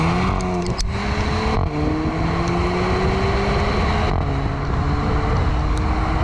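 A Volkswagen Mk7 GTI fitted with an Invidia Q300 aftermarket exhaust cruising along, giving a steady, moderately loud engine drone with tones that drift up and down through gear changes, and no talk.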